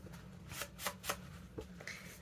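Scissors trim excess paper from a paper bag junk journal, making faint, close crisp snips and rustling with a few sharper cuts.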